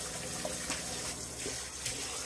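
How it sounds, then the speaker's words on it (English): A wool diaper cover is swished by hand through water to rinse out soap, giving a steady close sloshing and trickling wash with soft splashes throughout. "So I'm just gonna swish this around just a little bit, make sure all the soap is out"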